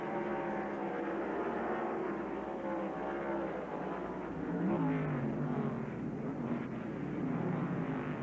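NASCAR stock cars accelerate together as the green flag drops at the 1993 Save Mart Supermarkets 300k, a dense, steady roar of many engines that swells slightly midway with rising pitch, heard alone without talk.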